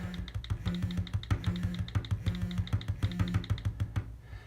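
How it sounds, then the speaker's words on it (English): Rapid, steady keystrokes on a computer keyboard as random codes are typed, each click close and fairly quiet, with no voices. "just start typing in random codes"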